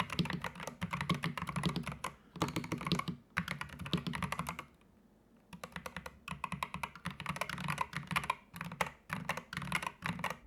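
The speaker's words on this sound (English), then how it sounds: "The one thing that I didn't really like, however, was just how loud the keystrokes sounded despite being linear switches." Typing on a Gamakay MK61 60% keyboard with Gateron Optical Green linear switches, a close, fairly loud clatter of rapid keystrokes in bursts separated by short pauses.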